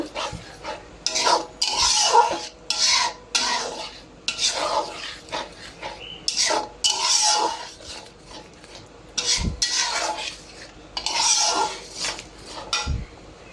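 Chicken roast stirred in a pan with a utensil, repeated scraping and rubbing strokes in bursts of a second or two with short pauses between, close and steady with no talking.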